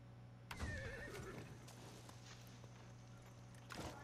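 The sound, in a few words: horse neighing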